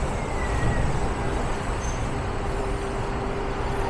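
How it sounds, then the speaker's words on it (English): A number 22 night bus pulls in on a city street in Vancouver's Chinatown area, a steady low engine rumble and road noise close by, with a faint brake squeal. "And there's a 22 night bus pulling in."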